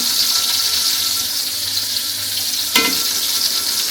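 Eggplant fries in a pan with a steady close sizzle, interrupted by one sharp clatter partway through.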